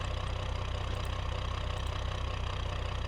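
A badly damaged straight-six engine in a Gavril Roamer idles in the BeamNG driving game, giving a steady, loud, low rumble with a rough, even pulse and no voices.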